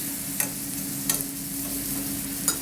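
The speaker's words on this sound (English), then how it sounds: "So a nice hot pan, as you can see, sizzling butter and" Butter sizzles steadily in a hot pan, a constant frying hiss with a low hum and a few sharp clinks of utensils against the pan.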